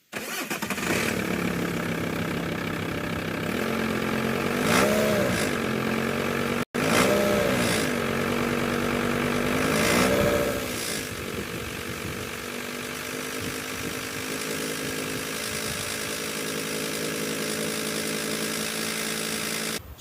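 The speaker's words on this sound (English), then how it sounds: "It comes up around 1200 revs. Just a vibration noise." A VW T4 van's engine runs steadily for about twenty seconds, revving up twice around 1200 rpm to bring out a droning vibration noise, then settling back to a constant hum.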